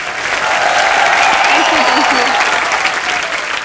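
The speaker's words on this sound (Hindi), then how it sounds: "ऐश्वर्या के लिए जोरदार तालियां।" Dense studio audience applause fills a TV comedy show set as a guest actress is welcomed, a steady loud wash of clapping throughout with brief vocal sounds over it.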